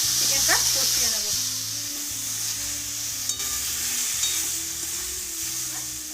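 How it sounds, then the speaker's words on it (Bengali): Chicken stir-frying in a pan, a steady sizzle with stirring scrapes and clatters throughout, with a faint voice in the background. "এবার আমি এই চিকেনটা কষিয়ে নেব।"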